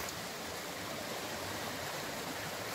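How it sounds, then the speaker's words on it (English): A creek in the Millaa Millaa area of Queensland's Atherton Tablelands flows over a small drop with a steady, close, even rushing of water and no voices. "Beautiful creek."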